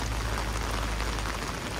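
Steady rain falls before dawn on an empty Los Angeles street during a rare, heavy storm: a dense, even hiss of drops spattering on surfaces, close and constant, with no voices.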